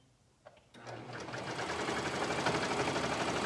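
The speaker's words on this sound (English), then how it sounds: "And then sew down the side of the skirt." Sewing machine stitching down the side of a skirt: a click, then the motor starts and runs in a fast, steady mechanical whir with rapid needle chatter, close and building slightly in loudness, with no voices.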